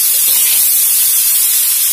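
Jicama and dried shrimp stir-fry in a hot pan with a loud, steady sizzling hiss, close up and continuous for a brief moment without voices.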